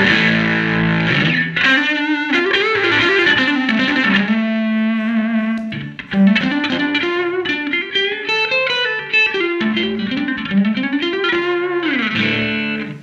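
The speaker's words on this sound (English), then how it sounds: "when you kick the distortion pedal on, and I'm not got the distortion pedal turned up very much" An Epiphone Zephyr electric guitar plays through an amp pushed by a lightly set distortion pedal, with continuous sustained notes and chords giving a thick, harmonically rich, mildly overdriven tone, loud and close with no talking.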